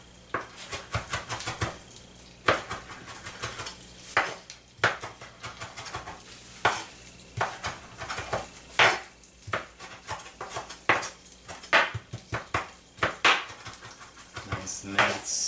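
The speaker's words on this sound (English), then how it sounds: "we're just gonna kind of go back and forth with our knife here and mince up the cilantro" A knife rocking back and forth to mince cilantro on a cutting board, rapid repeated close chopping taps in uneven bursts, with a voice talking over it.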